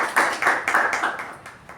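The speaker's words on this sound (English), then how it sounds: "let's give a big round of applause to our Sergeant" Meeting audience applauding the Sergeant, a dense run of hand claps with rhythmic swells, fairly close and steady throughout with no talk over it.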